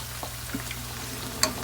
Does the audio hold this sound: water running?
no